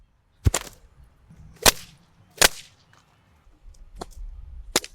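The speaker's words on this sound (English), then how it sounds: "These were just the raw whip sounds and the miss sounds." A whip cracks sharply about six times at irregular intervals, each a loud, dry snap, with softer swishing misses and faint rustling between them.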